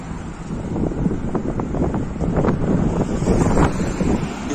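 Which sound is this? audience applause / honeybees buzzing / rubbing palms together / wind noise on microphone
wind noise on microphone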